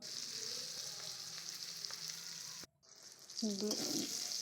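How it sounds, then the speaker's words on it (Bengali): Eggplant sizzles and crackles steadily in oil in a pan, briefly cut off before the frying resumes with soft stirring clatter. "কড়াইতে দিয়ে দেবো তেল বেগুনগুলো ভেজে নেব"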